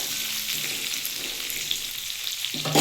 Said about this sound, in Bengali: ভালো করে একটু নাড়িয়ে নিচ্ছি আলটা